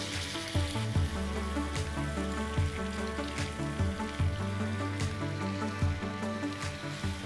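Chicken legs sizzle and fry steadily in melted butter on a hot tawa, a close, continuous crackle with faint soft squishes and no talking.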